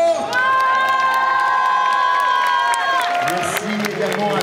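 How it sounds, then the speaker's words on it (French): A big audience at a costume contest cheers, whoops and applauds loudly and continuously, with excited shouts rising above the steady roar of the crowd and clapping. "on l'applaudit encore"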